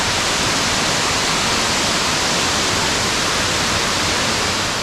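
Steady broadband rush of the Véu da Noiva waterfall at Lago Azul in Jaguariaíva, Paraná, heard close and loud as continuous roaring water with no voices.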